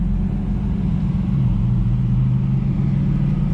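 Drift car driving fast on a track during a ride-along, heard from inside as a loud, steady low engine and road rumble with a rising droning tone.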